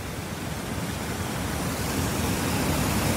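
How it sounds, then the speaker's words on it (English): Tioronda Falls on Fishkill Creek in Madam Brett Park, Beacon, New York, pours as a dense, steady broadband roar with no pauses, close and even throughout. "Greetings from the waterfalls of Beacon, Hudson Valley,"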